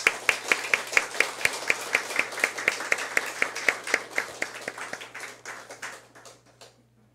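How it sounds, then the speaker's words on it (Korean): A church congregation claps for the choir, quick, evenly spaced claps close by, steady at first, then thinning and fading out near the end. "하나님께는 영광이고 우리 모두에게는 가슴이 뭉클해지는 귀한 은혜의 감동을 주는 우리 할렐루야 찬양대에게 하나님께는 영광의 박수를, 우리 성가대원들에게는 감사와 격려의 박수를 우리 올릴까요?"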